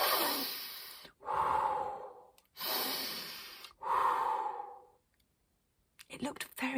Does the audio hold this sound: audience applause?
no